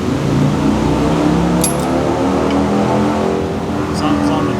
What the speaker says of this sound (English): Something's on the dyno out the back.